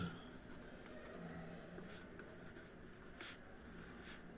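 A pen scratches across paper in short strokes and pauses as a physics question about a circular ring of radius r is written out by hand during a lecture, quiet and close with no speech.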